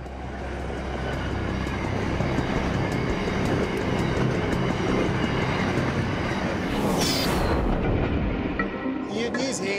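Night trains rolling past on railway tracks in Australia, a long loud continuous rumble with rhythmic wheel clatter, easing toward the end as a car recedes.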